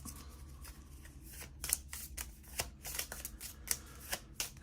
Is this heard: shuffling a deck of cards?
yes